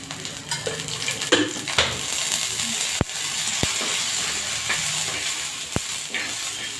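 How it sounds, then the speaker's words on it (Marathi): Green chilies, peanuts and garlic roasting in oil in a pan, with a soft steady sizzle, scraping stirs and a few sharp metallic clinks of a utensil against the pan. "इथे आपली मिरची शेंगदाणे लसूण मस्त भाजून झालेला आहे"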